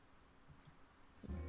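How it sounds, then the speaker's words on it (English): Faint, sparse keyboard typing clicks in a quiet room during an online tabletop role-playing game session, ending in a louder low thump. "Ignore the typing noises."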